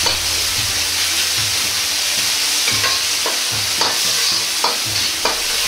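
Ground meat for salt mapo tofu stir-fried in a hot pan, a steady loud sizzle with regular scraping strokes from a ladle pressing and breaking up the mince, close and continuous.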